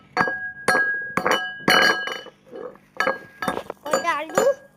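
Whole turmeric roots pounded at home by children: sharp, hard strikes land in a steady rhythm about twice a second, close and loud, with voices talking over and between the blows.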